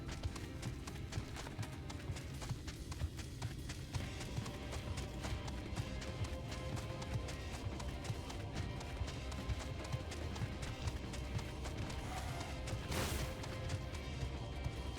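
Mount footsteps in Final Fantasy XIV: a continuous, rapid patter of heavy footfalls running without pause under a dense wash of game sound and music, with faint talk now and then.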